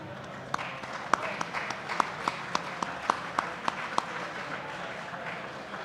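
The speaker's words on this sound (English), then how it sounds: "Please give a round of applause to these longtime members." Scattered applause from an audience at an award recognition ceremony honoring longtime members, made of sparse, evenly spaced claps that sound fairly faint and distant over a steady room hum.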